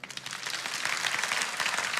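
Church congregation clapping during a sermon, a short burst of loud, dense applause rising quickly and sustaining evenly throughout.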